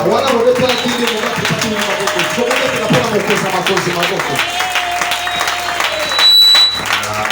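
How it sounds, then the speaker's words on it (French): A church congregation applauds and cheers for the king in a loud, sustained roar of clapping and voices that slowly thins out, with speech and crowd murmur mixed in. "Est-ce que vous pouvez acclamer pour le roi?"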